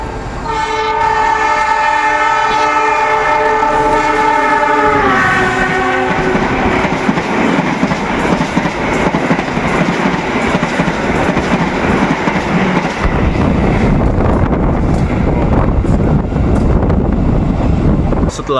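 A train horn sounds with steady harmonic tones, then a long loud rumble and clatter of passenger train cars rolling past close by at a station, with wind buffeting.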